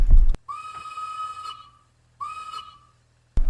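Two long, clear steam locomotive whistle blasts sound in a train simulator game, each rising and then sustained as a bright multi-tone chord, separated by a short gap, with clunking control noises at the start and end.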